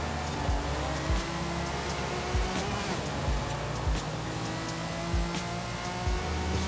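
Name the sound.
Nissan GT-R R34 with RB engine in video game Forza Horizon 5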